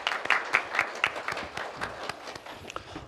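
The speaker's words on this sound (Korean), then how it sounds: "여러분 큰 박수로 환영해 주십시오." A small audience claps to welcome a speaker at a policy forum, a sparse run of separate claps, moderately close but fairly quiet, trailing off within a few seconds.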